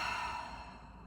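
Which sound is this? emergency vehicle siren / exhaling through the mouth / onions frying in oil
exhaling through the mouth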